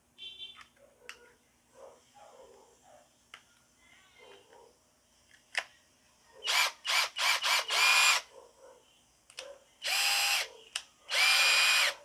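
A Yojimbo two-speed cordless drill with a 10 mm chuck, run in several short bursts of loud whirring, with quieter handling clicks and rattles between them.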